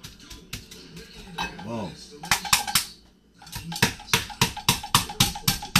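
A pan pounds a chicken breast sealed in a Ziploc bag to flatten it, giving a rapid run of sharp metallic thuds and clanks that pause briefly and then resume, with someone talking through part of it.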